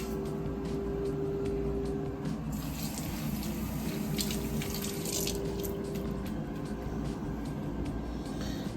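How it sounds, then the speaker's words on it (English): Tap water runs steadily into a kitchen sink as vegetables are rinsed for a northern bean, sausage and veggie soup, a continuous close splashing hiss with no voices. "You should always rinse your fruits and vegetables."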